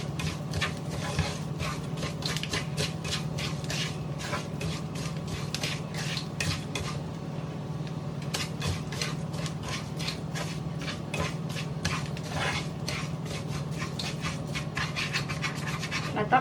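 Rice being stirred in oil in a pan while cooking Lebanese dishes: a steady run of quick scraping, rustling strokes from a spoon against the pan, close up over a faint background hum, with one brief pause midway.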